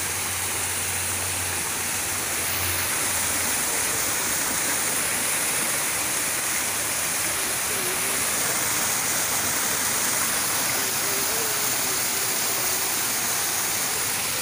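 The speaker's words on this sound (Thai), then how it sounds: "อุยน้ำตก" A steady, loud rush of falling water roars continuously with no pauses, like a nearby waterfall.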